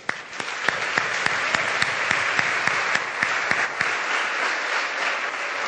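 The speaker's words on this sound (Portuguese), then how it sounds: "a igreja vai adorar ao Senhor com uma salva de palmas pela tua vida" A church congregation gives a round of applause during a Tuesday service, a thick continuous wash of clapping with a few louder individual claps standing out in a loose regular beat throughout.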